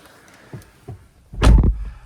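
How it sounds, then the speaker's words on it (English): Door of a Ford Fiesta ST swinging shut from inside the cabin: one solid, heavy thunk after a couple of soft knocks from getting seated, close and fairly loud. "and close the door"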